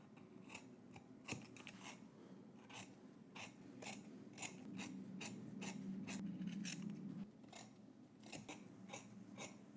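Sewing scissors snipping fabric corners and seam allowances, a run of crisp, separate close-up cuts at an irregular pace with soft handling between snips and no talking.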